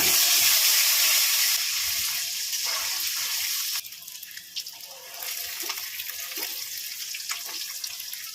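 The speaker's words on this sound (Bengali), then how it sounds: "ডিমগুলো আমি ছাড়িয়ে নিলাম, এবার আমি ভেজে নেব।" Peeled boiled eggs drop into hot oil with a loud, bright hiss that eases into a quieter, crackling sizzle with scattered pops, while potatoes fry alongside for chicken pulao.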